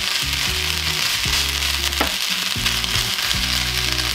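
A Thai basil stir fry (vegan pad kra pao) sizzles loudly and steadily in a pan as the leaves wilt, with repeated scraping stirs under the hiss, close up and with no talk.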